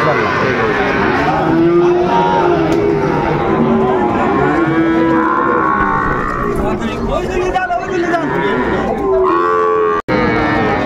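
A young bull calf moos loudly and repeatedly at a cattle market, its drawn-out calls rising and falling over constant background chatter and bustle.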